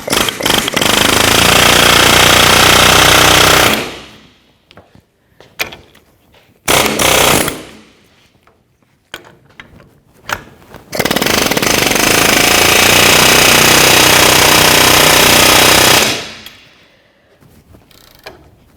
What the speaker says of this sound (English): we're going to just take our air chisel and hammer it right out